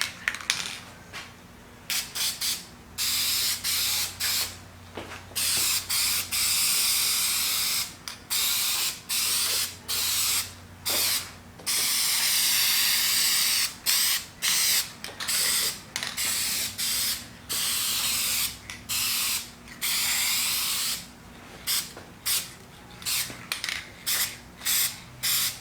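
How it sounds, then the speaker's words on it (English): Bursts of spray paint hiss over a welded metal DVD shelf, a series of short and longer sprays separated by brief pauses, close and fairly loud throughout. "gonna go ahead and throw some paint on it now that it's all welded up"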